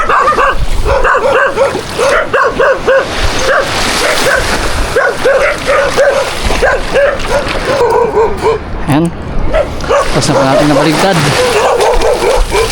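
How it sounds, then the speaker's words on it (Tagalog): Several dogs bark and yip repeatedly in a rural outdoor setting during a guava-picking outing, with a few whimpers mixed in, loud and close under ongoing talk from people nearby. "Daming aso dito."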